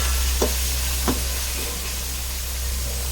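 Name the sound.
onions sautéing in a pan for mutton biryani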